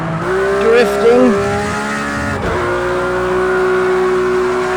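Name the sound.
Porsche GT3 RS tires squealing while drifting in a racing video game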